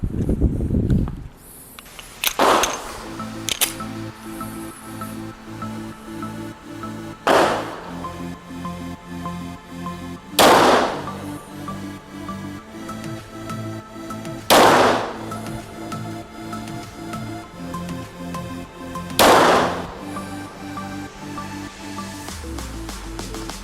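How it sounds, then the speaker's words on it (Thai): Practice rounds from a Mossberg MC2c pistol fired at a target about 10 meters away, four sharp loud shots spaced several seconds apart with ringing decay between them, with a faint early shot at the start. "ผมจะยิง เป้ามาตรฐานนะครับ ด้วยกระสุนซ้อมนะครับ ที่ระยะประมาณ 10 เมตรนะครับ"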